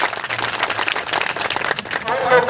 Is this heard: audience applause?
yes